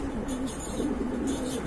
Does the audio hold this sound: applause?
no